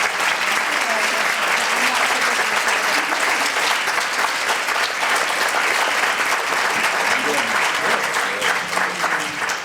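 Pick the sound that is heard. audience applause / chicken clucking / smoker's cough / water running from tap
audience applause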